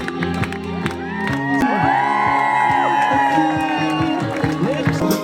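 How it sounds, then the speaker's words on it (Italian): Guests at a wedding reception at the Augustus Resort cheer, whoop and clap in a loud, dense crowd roar that holds for several seconds, with shouting voices woven throughout. "Applausi, applausi, applausi!"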